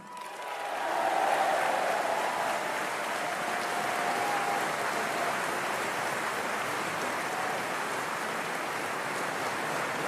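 A large audience at a French political speech bursts into sustained applause, a dense, even wash of clapping heard from a distance that swells quickly and holds steady.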